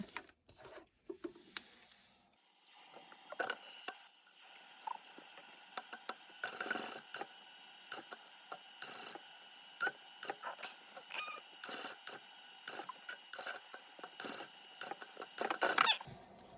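A sewing machine stitching a handbag strap, with quiet rapid mechanical clatter and ticking in uneven runs and pauses, close and soft, with no talking.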